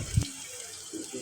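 Water from a running kitchen tap splashes in a short, close burst, then drops to a soft, faint trickle.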